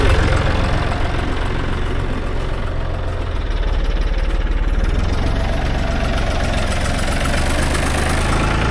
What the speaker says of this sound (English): I'm gonna move the tractor back around this way